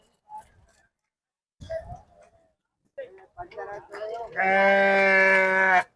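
Brief bits of talk in a quiet setting at the Sira sheep market, then a sheep close by lets out a long, loud bleat.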